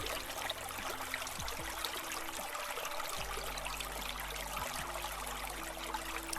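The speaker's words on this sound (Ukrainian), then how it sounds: "Так, це дзюркотить весняний струмочок." A spring stream trickles and babbles steadily, a continuous close watery burble with no voices.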